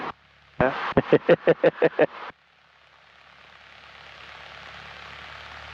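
At Corry-Lawrence Airport, a light aircraft's engine throttles up for takeoff. A brief burst of voice comes first, then the engine drone swells gradually, growing steadily louder and nearer.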